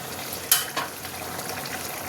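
Fish curry with black cumin and green chili bubbles in a pan, a soft continuous sizzling simmer with a couple of brief sharp clinks or pops early on.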